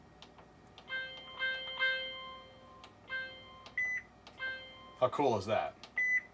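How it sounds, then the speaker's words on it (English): A Breville Combi-Wave microwave gives a string of short electronic beeps at an even pace, clear and close, with a voice speaking briefly over the final tones. "And then there's the traditional beep."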